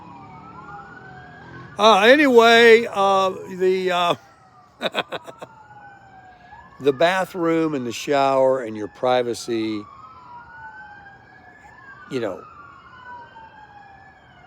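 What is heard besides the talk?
emergency vehicle sirens outside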